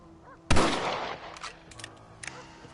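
A sharp, loud rifle shot in the Western video game Red Dead Redemption cracks out alone and rings off in a long echo. A second, fainter report follows about two seconds later, and no one speaks.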